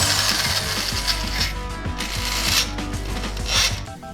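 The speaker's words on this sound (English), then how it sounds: "Right now we've just drilled the hole out to the next oversize and run this tap down through." A thread tap being run through an oversize drilled bolt hole on a Honda 400EX quad, giving a close, steady ratcheting click with a continuous grinding, mechanical texture.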